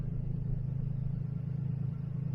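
A 2007 Jeep Liberty engine idles steadily after new oxygen sensors were fitted, a smooth, even low rumble that holds close and constant with no stumbles or dips.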